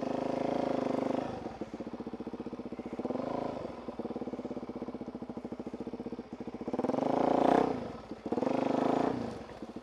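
A motorcycle engine idles with a fast, lumpy putter close by, revving up briefly a few times before settling back to its choppy idle.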